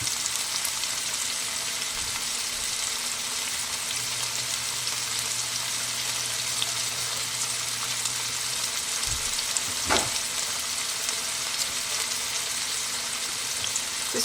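Chunks of stew beef brown in a hot pan, giving a steady, close sizzle and crackle throughout with a brief clatter of a utensil partway through.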